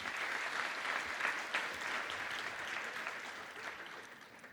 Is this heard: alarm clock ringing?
no